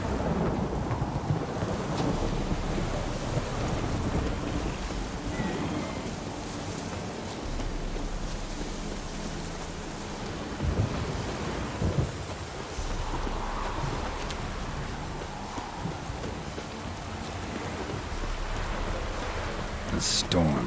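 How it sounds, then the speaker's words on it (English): A thunderstorm in the game Witcher 3 roars steadily throughout, with dense rain and rolling thunder forming a loud, continuous wash and a few sharper cracks near the end. "The storm, damn it."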